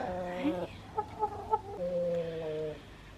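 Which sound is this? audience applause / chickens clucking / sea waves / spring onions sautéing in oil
chickens clucking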